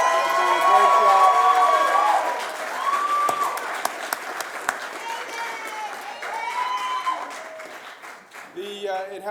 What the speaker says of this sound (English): let's give a big round of applause to the men and women of law enforcement